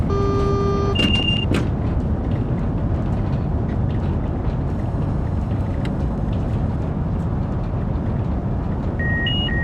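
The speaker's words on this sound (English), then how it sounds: "Right, double yellow signal. Let's start really braking." A Class 395 high-speed train in a train simulator game slowing under braking, a steady loud roar of motor and rolling noise with a few short electronic cab tones and beeps, no talk.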